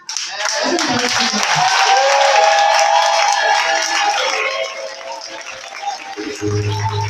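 A church congregation at a demonology seminar breaks into sustained, loud applause and acclamation, dense clapping mixed with cheering voices filling the room, easing slightly toward the end as a low hum enters.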